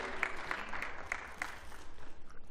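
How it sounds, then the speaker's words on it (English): A lecture audience applauds a presenter with faint, scattered clapping, a few louder claps standing out in an uneven patter heard from a distance. "Let's give him a round of applause."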